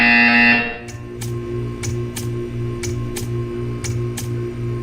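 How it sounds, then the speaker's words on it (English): A buzzer in the video game Portal 2 sounds in a regular series of short, evenly spaced electronic buzzes following a brief louder tone, over a constant low mechanical hum. "You will hear a buzzer. When you hear the buzzer, stare at the art."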